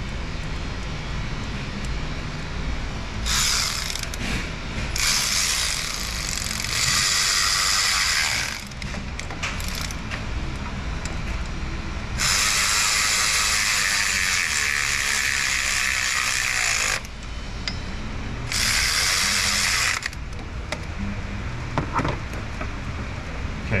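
A part of a dual-spark HEMI engine's intake is screwed on and tightened with a ratchet, giving bursts of rapid mechanical clicking separated by quieter pauses, close and fairly loud.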